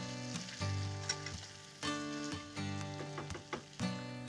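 Carrots and cauliflower with capsicum being stirred in a pan, quiet intermittent sizzling broken by repeated scraping and clattering strokes of the stirring utensil, fairly close and soft overall.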